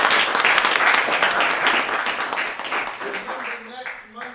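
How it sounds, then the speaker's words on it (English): Applause from a live event audience, loud dense clapping that gradually thins and fades toward the end, with a voice starting to speak over the last moments. "Let's give a round of applause for all our"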